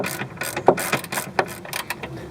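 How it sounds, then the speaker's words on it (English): A hand ratchet snugs down a shock absorber bolt, giving a few quick bursts of close metallic clicking with brief pauses between strokes. "Get a ratchet on here and we'll tighten it up the rest of the way."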